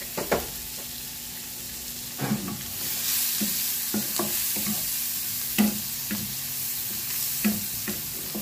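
Chopped onion and garlic sauté in melted butter, a steady sizzle punctuated by repeated scraping stirs of a utensil against the pan, close and moderately loud.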